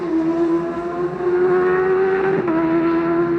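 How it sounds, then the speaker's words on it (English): A Padgett's Racing Honda superstock motorcycle screams past at full throttle during the Superstock TT race, a loud sustained high-pitched engine howl with a brief dip as it passes and no voices. "That is the sound of the Padgett's Racing Honda of Ian Hutchinson"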